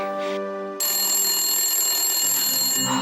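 A telephone rings in a Bengali TV drama scene. A tonal electronic ring starts abruptly partway through and holds steady and fairly loud alongside background music tones.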